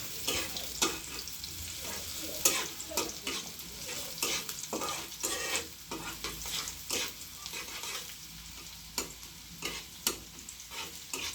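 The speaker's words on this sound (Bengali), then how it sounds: "আমার পেঁয়াজটা তেলে দিয়েছি একটু হালকা বাদামি কালার হলেই আমি এটা দিয়ে দিই" Sliced onions frying in hot oil for a potato stir-fry, a continuous sizzle broken by repeated close stirring scrapes at an irregular rhythm, with no talking.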